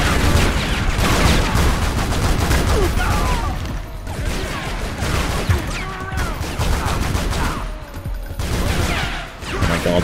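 Gunfire in the video game Tomb Raider: Legend comes in dense, loud rapid bursts mixed with booms and game music, almost continuous with brief lulls.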